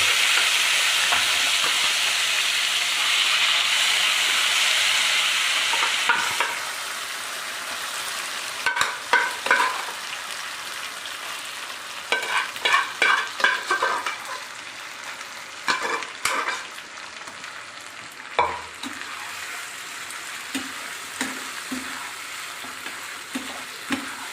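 Boiled mutton frying with curry leaves in oil in a pan gives a steady loud sizzle that eases after a few seconds, then continues under scattered stirring scrapes and clinks of a spoon against the pan.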